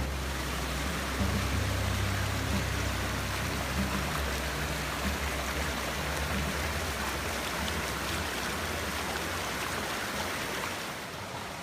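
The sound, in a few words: creek water flowing, Trout Creek in Kaniksu National Forest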